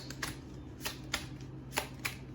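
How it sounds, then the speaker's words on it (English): Tarot cards being shuffled by hand: a series of crisp riffling snaps spaced irregularly, about six quick bursts, close and fairly quiet with no talk. "oh, see, I'm still shuffling."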